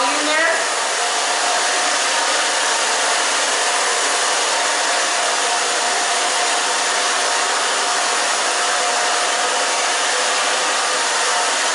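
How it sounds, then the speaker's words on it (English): Hair dryer drying hair with a root lifter, a loud, steady, close-up whooshing roar that runs continuously without a break. "I'm kind of just pulling up on that and drying it so it gives her some volume there."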